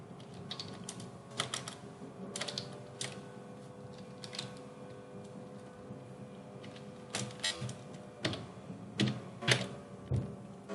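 Java code is typed on a computer keyboard in short, clustered bursts of crisp, close keystrokes separated by brief pauses, with a soft background hum.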